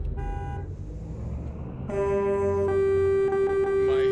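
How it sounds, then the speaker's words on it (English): A truck horn in American Truck Simulator blares in a long steady honk over a low engine rumble, following softer, shorter toots at the start. "I'm just playing with the horn."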